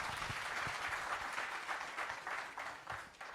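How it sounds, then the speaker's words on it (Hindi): Faint applause from an audience at a literary festival conversation session, a soft steady patter of clapping that swells in small pulses and tapers slightly toward the end. "मुझे लगता है आपको तालियों से इसके लिए तो अप्रिशिएट करना चाहिए"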